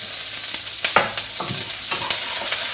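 Onion and capsicum frying in a pan over a low flame, a close sizzle broken by several sharp scraping stirs of a utensil at uneven intervals.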